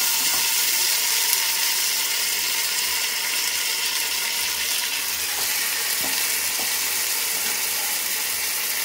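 Marinated meat coated in yogurt, coriander, cumin, chilli and turmeric added to perfectly fried onions, sizzling loudly and steadily throughout, with a few scraping clicks of stirring from a spoon in the pan.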